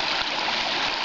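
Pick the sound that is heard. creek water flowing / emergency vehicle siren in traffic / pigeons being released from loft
creek water flowing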